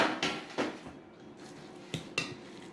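A metal frying pan scraped and knocked across a kitchen counter, several sharp clattering hits spaced out over a few seconds, close and fairly loud with no voices.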